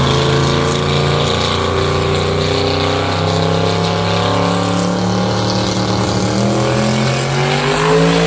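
Ferrari LaFerrari and Porsche 918 at a TX2K18 drag race at Royal Purple Raceway, a loud sustained engine roar with rising harmonic whine as the hypercars accelerate down the strip, close and continuous throughout.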